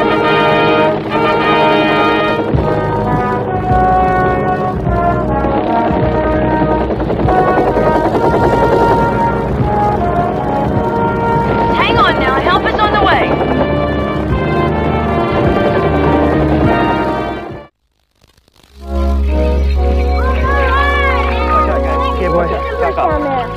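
A helicopter flies in a 1979 television drama episode, its steady rotor drone mixed with music and voices for most of the scene. The sound cuts out briefly near the end, then resumes at a lower, rumbling level.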